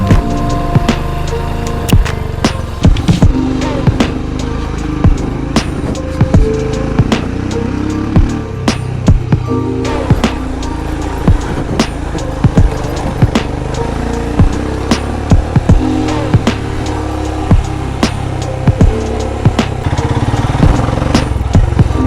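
A motorcycle carrying a pillion rider creeps slowly along a red muddy trail toward Cola Beach in South Goa. Its engine drones steadily up close, broken by frequent sharp clicks and rattles from the chain and bumps.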